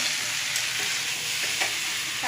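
Chana curry sautéing in a pan gives a dense, continuous loud sizzle with occasional faint stirring scrapes, steady throughout, no voices.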